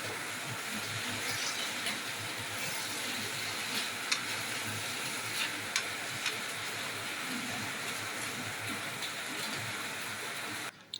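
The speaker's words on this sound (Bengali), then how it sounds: "নুন এবং একটু হলুদ দিয়ে আমি তেলেতে একটু ফ্রাই করে নেব" Something fries gently in oil with salt and turmeric, giving a continuous, fairly quiet, even hiss with a few faint clicks and taps scattered through it.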